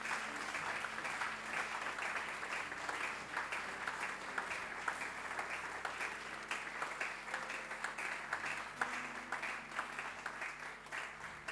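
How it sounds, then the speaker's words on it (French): A church congregation applauding and acclaiming during a sermon, steady dense clapping sustained throughout with faint voices mixed in. "Est-ce que nous pouvons donner des acclamations à notre Seigneur?"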